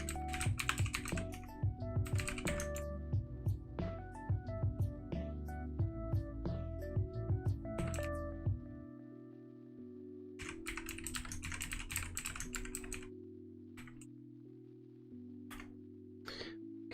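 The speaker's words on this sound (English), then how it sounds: "my mic apparently picks up the flippin' piping of my keyboard" Rapid typing on a computer keyboard picked up by a desk microphone, dense bursts of clacking keys in runs with short pauses, close and fairly quiet alongside a faint steady background tone.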